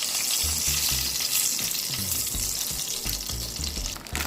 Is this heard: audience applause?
no